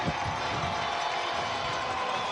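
A big crowd gathers at a high school football game, Independence vs Page, filling the stands with a steady, even murmur of many voices and faint distant cheers.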